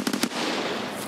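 Gunfire in the video game Escape From Tarkov, three quick sharp shots in a tight burst followed by a lingering noisy tail, fairly close and with no talk over them.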